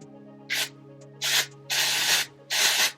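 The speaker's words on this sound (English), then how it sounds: "I definitely felt like I had to spray it a lot to get the dry shampoo to come out" Four short hissing bursts of Not Your Mother's Clean Freak Refreshing Dry Shampoo, unscented, sprayed from an aerosol can in quick succession, close and fairly loud, each burst lasting about a quarter to half a second over a faint steady hum.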